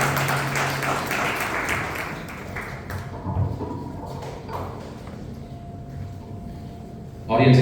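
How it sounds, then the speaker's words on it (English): An audience at a Toastmasters meeting applauds, a dense wash of clapping in a hall that thins and fades midway, leaving a quieter room before a brief loud burst near the end. "A big round of applause."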